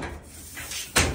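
A side door of a house opens with a low rumble and rattle, ending in a sharp thud of the latch, close and alone.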